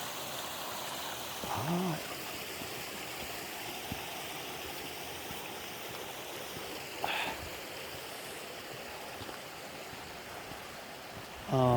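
Water rushes in a steady, soft wash along a series of small waterfalls and a mountain stream near a hot spring, with brief voices and a faint chirp now and then.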